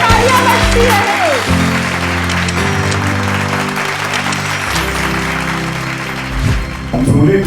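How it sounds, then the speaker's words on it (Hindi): Sustained applause from an audience at a film festival awards event, loud and steady throughout, with a music-like tonal bed underneath and no clear talk. "Ladies and gentlemen, तालियां बजती रहे।"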